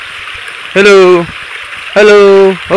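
Steady rushing splash of a small forest waterfall fills the background while someone shouts loudly twice over it.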